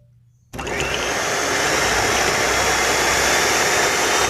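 An electric hand mixer beats chocolate cake frosting in a bowl, starting abruptly after a brief quiet moment and then running as a loud, steady whirring drone to the end.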